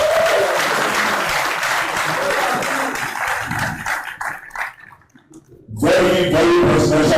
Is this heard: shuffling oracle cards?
no